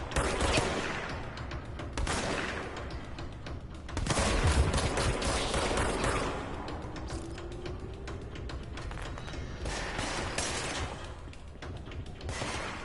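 Pump-shotgun fire and other combat sounds in the action game Control come as loud, scattered blasts among clanking mechanical noise, with a sharp burst near four seconds and more shots spread through the rest of the fight.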